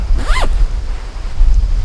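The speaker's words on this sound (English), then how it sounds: "you can zipper all the way up" A sleeping bag zipper pulled up in one quick, rising rasp lasting a fraction of a second, close and clear, followed by quiet rustling and low rumble.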